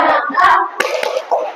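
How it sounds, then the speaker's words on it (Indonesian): Children in a classroom doing a rhythmic 'tepuk semangat' clapping chant, a few sharp hand claps mixed with young voices in a short burst, near and fairly loud. "Tepuk semangat"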